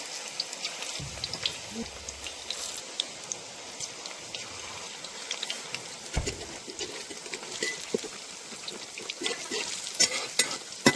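Urad dal badi frying in a pan on a home stove, a soft continuous sizzle with occasional stirring clinks and scrapes, fairly quiet and without talk.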